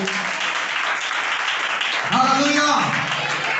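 A church congregation applauds in a steady, dense patter of clapping, with a voice speaking over it toward the end.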